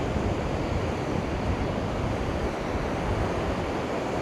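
Waves wash on a beach, where someone walks with their feet in the water: a dense, continuous roar of surf, close and loud, with no voices.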